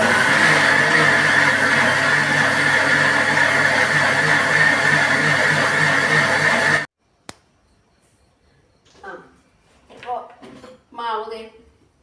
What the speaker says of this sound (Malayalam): ഈ മാവ് മിക്സിയിലിട്ടൊന്ന് കറക്കി